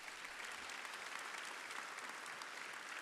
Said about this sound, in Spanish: Eso es un gran punto para aplaudir.